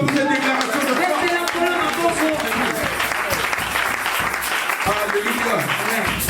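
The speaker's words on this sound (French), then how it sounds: "Acclame Seigneur pour cette déclaration de foi." A church congregation applauds steadily, dense clapping filling the space while voices call out over it.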